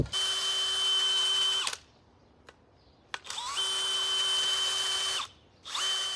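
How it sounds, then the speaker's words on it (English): Power Planter auger drilling planting holes in garden soil for dahlias, two loud steady whining bursts of the motor with a pause between them and a brief restart at the end, no talking. "what I just did right then was I made 2 holes side by side with my Power Planter auger"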